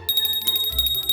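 Cartoon bell made from a mended cup, ringing in a quick run of bright, high metallic dings, loud and close, with a low thump entering partway through.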